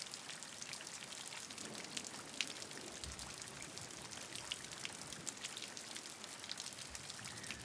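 Steady rainfall with countless droplets pattering on a surface, dense and even, moderately soft and continuous with no voices.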